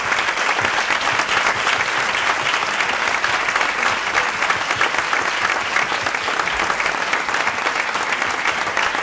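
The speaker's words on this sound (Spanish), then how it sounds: "Un aplauso para Fernando." Audience at a classical music concert applauds Fernando Argenta with sustained, dense clapping, loud and even from start to finish.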